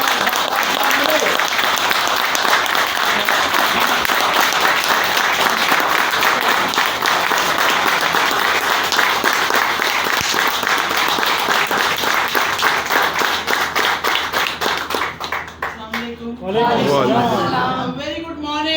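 An audience at an event in Karachi gives loud, sustained applause, dense clapping close by that fades near the end as a voice begins speaking.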